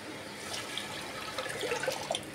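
Water poured over soaked lentils in a cooking pot makes a soft, continuous splashing and trickling, with faint bubbling and drips close by at low volume.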